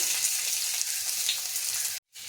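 Onions frying in mustard oil for a snake gourd dish, a steady close sizzle with dense crackling throughout that cuts out abruptly near the end before resuming briefly.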